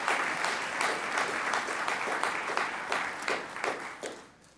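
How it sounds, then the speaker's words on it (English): An audience claps at a military employer award ceremony, a dense steady wash of applause from a large crowd in a hall that fades toward the end, with no voices on top. "A big round of applause to you."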